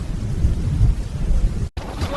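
Deep, rumbling thunder growls continuously close at hand, with rain hissing underneath, before cutting out briefly and returning more softly.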